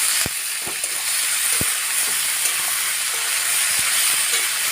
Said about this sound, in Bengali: নুন চিনি হলুদের গুঁড়োগুলো আমি দিয়ে দিলাম দিয়ে ভালোভাবে আমি মিশিয়ে নিচ্ছি